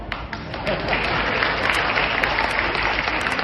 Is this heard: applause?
yes